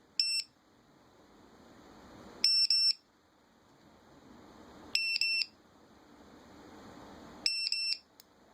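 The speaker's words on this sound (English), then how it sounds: "Warning alarms. Low voltage alarm for internal battery. Power switch off detection alarm." A Dronekeeper mini2 warning alarm sounds in four evenly spaced bursts of sharp, high electronic beeping, each about half a second long and roughly two and a half seconds apart, clear and loud over a quiet background.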